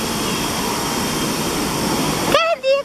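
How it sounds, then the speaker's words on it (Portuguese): Steady broadband rush of a small waterfall spilling into a natural pool, continuous and fairly loud, cutting off near the end as voices and a sung tone take over. "Cachoeirinha."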